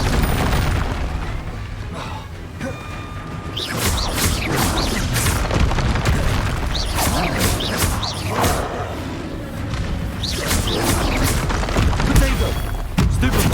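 The Confringo spell in Hogwarts Legacy bursts with booming blasts and thuds amid a busy mix of combat effects and impacts, and a voice speaks over the action.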